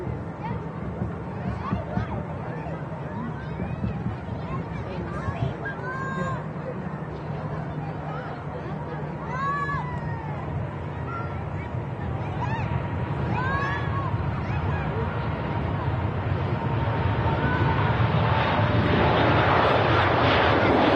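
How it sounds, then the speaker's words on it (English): Emirates Airbus A380 jet on its takeoff roll at Manchester Airport, engine roar building steadily to a loud, broad rush by the end, with rising whistling tones and crowd chatter underneath. "And the A380 on the roll."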